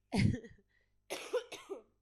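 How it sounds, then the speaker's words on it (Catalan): A person with a heavy cold coughs up close: one rough burst, then after a short pause a pair of quick, harsh coughs, with silence between them. "De fet, ara vaig a tossir."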